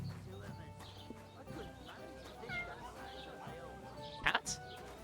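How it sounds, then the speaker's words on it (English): A cat meows briefly in the medieval open-world game Kingdom Come: Deliverance II, a short, fairly close cry rising over steady game ambience with faint hoof clip-clop and background chatter. "Did I just hear a cat?"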